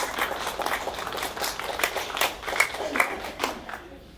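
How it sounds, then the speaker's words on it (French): A comedy show audience claps in a burst of scattered, lively applause that thins out toward the end. "Alors merci pour les applaudissements."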